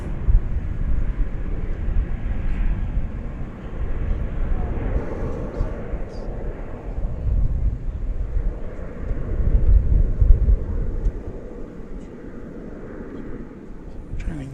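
An American Boeing 787 heavy jet lands at Dallas Fort Worth airport, heard at a distance as a steady low engine roar with some wind rumble throughout.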